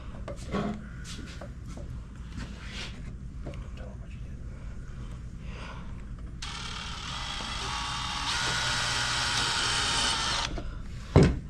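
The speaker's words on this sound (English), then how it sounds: "I'm just putting these screws back in." A power screwdriver drives screws back into a bellows under restoration, a quiet whir joined midway by a loud, buzzing burst lasting several seconds.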